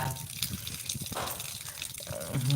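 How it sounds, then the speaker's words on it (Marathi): Rain falls steadily, a dense close wash of patter and trickling water filling the short stretch without pause. "पाऊस चालू"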